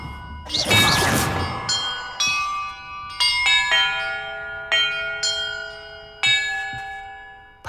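Bells in the game Hogwarts Legacy ring one after another after a loud opening burst, each clear metallic strike hanging on and fading slowly into the next.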